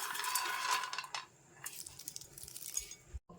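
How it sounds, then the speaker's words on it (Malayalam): Lightly roasted peanuts are dropped into a bowl of salad, giving a quick rattling shower of small clicks at first, then scattered light taps and clinks close by. "ഇത് ചെറുതായിട്ട് വറുത്ത കപ്പലണ്ടിയാണ് ഞാൻ ഇട്ട് കൊടുക്കുന്നത്."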